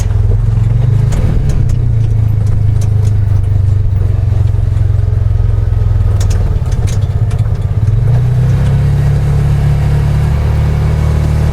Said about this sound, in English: There's the skid steer.